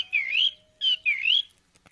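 Cheep Cheep, a small bird in the video game Book of Unwritten Games, gives two bursts of bright warbling chirps, close and clear with a short pause between them, alone with no talk.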